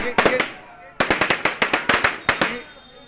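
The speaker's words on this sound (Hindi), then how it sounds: "तो ये अभी पटाखा फोड़ा गया है और ये लगातार सिलसिला जारी है" Firecrackers burst at a Diwali election victory celebration for the JDU in Tarapur, Bihar. Sharp, loud, close pops come in rapid strings, a short cluster of three and then a longer run of about a dozen cracks after a brief pause.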